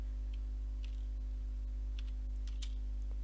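A computer keyboard is typed on to enter a command, a few light, scattered clicks over a constant low electrical hum.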